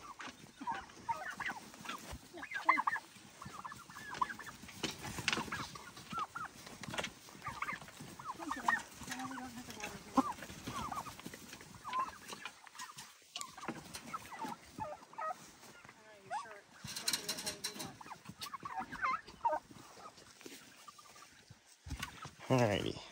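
A flock of turkeys being herded in the evening gobbles and clucks continuously in a busy outdoor din, with a person talking at times over the birds.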